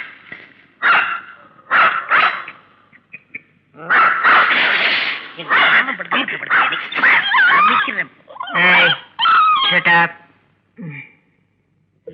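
A dog barks repeatedly in close, loud bursts with yips and whimpers between, while people's voices mix in during a comedy scene.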